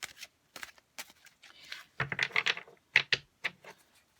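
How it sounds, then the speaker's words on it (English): Tarot cards shuffled by hand, close and fairly quiet, in a series of brisk papery riffles and taps with short gaps between bursts. "I'll just talk a bit more about that while I shuffle these and get ready to lay down these cards"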